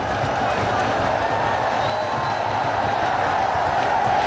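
Cricket crowd at a match cheering after a boundary, a broad steady roar of many voices filling the whole stretch without pause.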